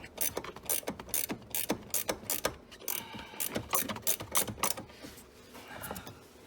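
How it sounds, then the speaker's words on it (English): Ratcheting wrench loosening a bolt on the door hinge of a 1999 Chevrolet Suburban, loud close rapid clicking in rhythmic bursts with brief pauses between strokes. "I'd suggest a ratcheting wrench for this deal."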